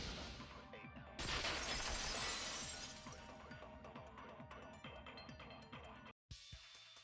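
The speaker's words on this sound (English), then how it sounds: "At the entrance hall, the girls heard the sound of the window shattering." Glass shattering in Danganronpa 2, a loud crash at about one second followed by a long tinkling decay of falling shards, then a brief cut to silence near the end.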